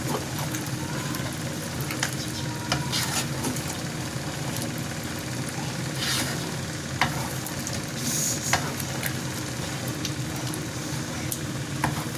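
Masoor lentils with drumstick pieces being stir-fried in a pan: a steady sizzle under repeated scraping and clinking of a spatula, moderately close, with a low background hum and no talking.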